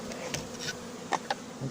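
Honeybees buzzing faintly around an outdoor hive during a colony merge at Varennes-sur-Seine, with a few brief, louder passes as single bees fly close by against a quiet background.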